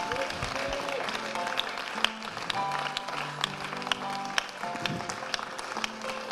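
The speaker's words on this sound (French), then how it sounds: "Den un aplauso al Señor." A church congregation claps for the Lord during a bilingual Spanish-French sermon in Paris, a steady wash of applause with scattered sharper claps beneath sustained music tones and some voices.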